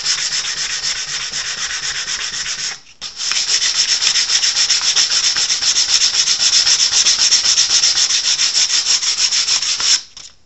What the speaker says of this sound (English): go ahead and sand the legs down, just using my hand sandpaper